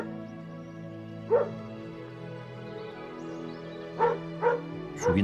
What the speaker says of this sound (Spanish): un perro lejano ladra